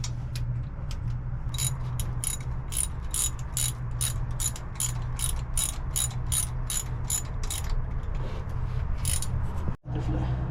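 A ratchet wrench cranks steadily while tightening the bolts on a MerCruiser marine engine's exhaust manifold spacer, a long close run of evenly spaced metallic clicks over a constant background drone, ending in a brief pause.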